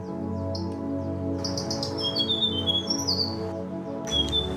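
A Tickell's blue flycatcher sings at Bandipur, bright high chirps and short warbled phrases in bursts over a low steady hum of background noise, fairly close and clear.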